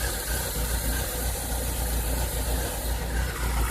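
A Chevrolet Cavalier engine idles roughly and unevenly, a steady low rumble with faint vibration and slight wavering throughout, heard close with no voices.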